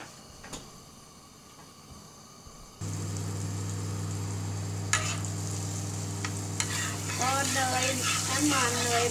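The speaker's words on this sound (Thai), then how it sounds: "น้ำมันเนยร้อนแล้วก็จะใส่พลายลงไปผัดค่ะ" Plai, a giant garlic, is stir-fried in hot butter oil on a gas stove. A sudden loud, steady sizzle starts and continues with stirring clatter nearby, and a voice speaks briefly near the end.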